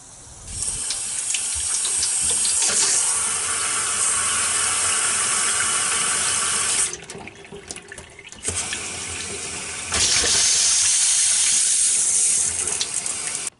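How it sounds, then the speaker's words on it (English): Water runs strongly from a faucet as a travel trailer's water system and newly installed water heater fill, a steady loud hiss that drops off briefly mid-way and then resumes. "let's just fill up the system and see how that hot water heater works"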